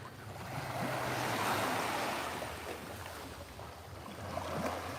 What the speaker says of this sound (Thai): ด้านข้างนะครับก็จะเป็นทะเลน้ำทะเล